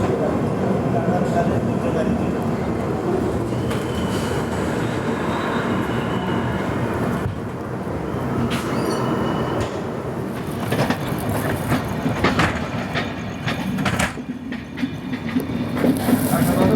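The Gitanjali SF Express rolls along between Gondia and Howrah, heard from inside as a continuous loud rumble and rattle of wheels and carriages, with occasional clanks and hiss.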